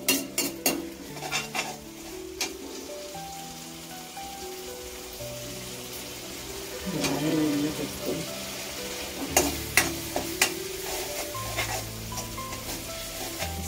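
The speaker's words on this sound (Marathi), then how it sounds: "हलवत राहायचं थोडं, म्हणजे ते मिक्स होतं चांगलं" Tomato pasta sauce with chunky tomato pieces being stirred in a pan for macaroni: soft sizzling and frying under a steady scrape of a spoon, with occasional clinks of utensil against the pan.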